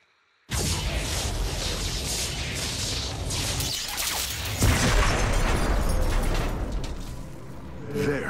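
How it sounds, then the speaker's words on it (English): A power structure is destroyed in the StarCraft II mission Templar's Return, heard as a sustained loud roar of crashing, rumbling destruction and rattling debris that runs for several seconds after a brief silence, with no talking. "The Hybrid eliminated, we can safely destroy the power structure"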